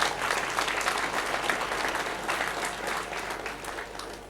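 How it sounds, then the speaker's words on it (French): Audience applause fills a church inauguration in Santeny, a dense, steady patter of many hands clapping at moderate distance, slowly tapering over a few seconds with no talk over it. "On peut l'applaudir."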